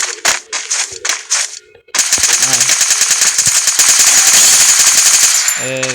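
An EMP gun fires in a video game: a few quick staccato bursts, a brief gap, then a long, loud stream of rapid-fire crackling that runs almost without a break to the end.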